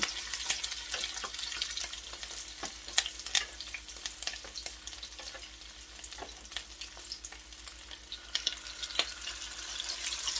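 Crab cakes frying in hot oil, a steady close-up sizzle with crackling pops and spatters throughout, no talking.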